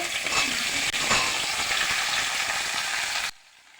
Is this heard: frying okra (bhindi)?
yes